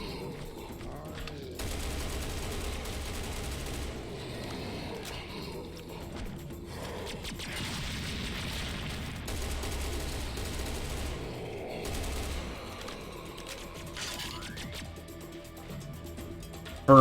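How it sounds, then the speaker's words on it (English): Assault rifle gunfire in the video game Serious Sam Fusion: sustained bursts of rapid automatic fire, fairly quiet and mixed with game mechanisms and clatter, stopping and starting over the stretch. "now we're going to use the assault rifle to quickly take care of some of these"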